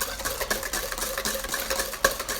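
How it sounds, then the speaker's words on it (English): Eggs and sugar being whisked for flourless brownie batter, a steady rhythmic scraping and tapping of the whisk against the bowl, close and moderately quiet, with no talking. "we're going to add the sugar to the eggs and whisk until apparently the batter is double in volume"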